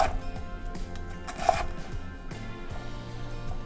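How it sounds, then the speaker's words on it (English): A kitchen knife cuts a red onion into big chunks on a board, giving a run of soft, quiet chopping taps in an irregular rhythm that sounds close by. No one talks. "we're just going to cut it into big chunks"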